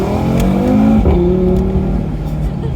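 An Audi RS3 engine revs hard and surges in a launch-control start, the motor note climbing loud and close, with a brief shift in pitch partway.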